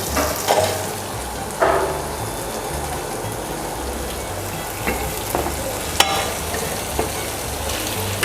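Prawns fry and get stirred through gravy for a Kerala-style prawn roast, with a steady close sizzle and scattered scraping, clinking stir strokes over a low background hum.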